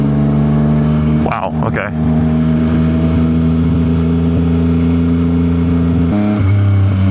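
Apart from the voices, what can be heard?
Yamaha XSR900 motorcycle riding and accelerating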